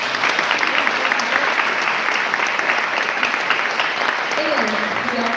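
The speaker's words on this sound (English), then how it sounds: "So you can please clap for that." Crowd at a congressional candidate forum applauds, steady dense clapping throughout with faint voices and cheering mixed underneath.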